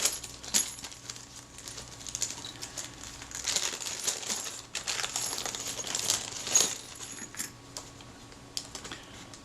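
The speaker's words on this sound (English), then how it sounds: "Bag of stray components." Small loose parts from a disassembled Kodak Retina IIa camera rustle and clink inside a bag, a close, quiet run of crinkling and light metallic taps with a few brighter ticks and no voices.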